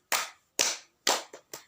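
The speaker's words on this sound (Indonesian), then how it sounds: "Tepuk 1, tepuk 2, tepuk 3," Hand claps in a classroom ice-breaker: three loud, evenly spaced claps followed by two quicker, lighter ones, crisp and close with brief decay and no talking.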